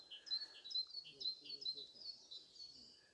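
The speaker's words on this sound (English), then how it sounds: "And again, another warbler, another migrant here." A migrant warbler sings during a spring guided walk in Britain, giving bright repeated high phrases of quick notes across the whole stretch. Other birds call faintly in the background and low voices murmur underneath.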